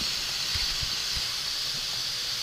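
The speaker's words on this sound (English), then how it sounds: "My steam's starting to come out of my release" Steam hissing from the release valve of a pressure cooker used to can sweet corn: a steady, fairly loud broadband hiss with faint low knocks underneath, and no talk.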